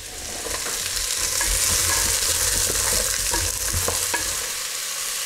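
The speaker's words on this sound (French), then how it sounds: "On va y verser les panais. On va les faire revenir comme ça assez rapidement pendant 2-3 minutes." Parsnips sauté in a pan with a drizzle of olive oil, a steady bright sizzle with stirring scrapes and occasional clacks, close and continuous.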